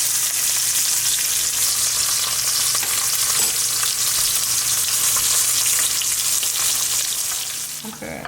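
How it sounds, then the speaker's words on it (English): A steak fries in a hot pan on its way to medium rare, with a loud, dense, continuous sizzle that stays even for several seconds and then eases slightly at the end, and no one talks. "You can cook your steak to your desired doneness."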